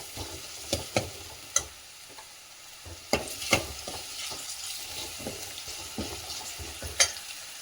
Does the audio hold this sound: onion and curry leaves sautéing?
yes